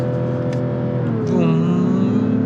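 A Mazda CX-60 3.3-litre diesel engine idles, then revs up and holds near its 5000 rpm limiter, a loud, close mechanical drone.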